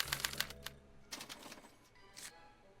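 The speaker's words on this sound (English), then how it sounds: "As the responses are recorded, they're relayed to this special typewriter which prints out a punch card" Clacking mechanical bursts from a special typewriter printing out a punch card in the Back to the Future attraction, a quick run of taps at the start, then two further short clusters, fairly faint with no voices.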